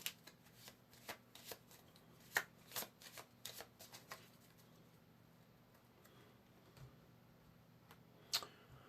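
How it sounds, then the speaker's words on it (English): A deck of game cards is shuffled by hand, giving a rapid series of crisp riffling bursts and flicks, close and quiet, with short pauses between bursts. "We've still got our little deck here, but we will shuffle it anyway for the card deck phase."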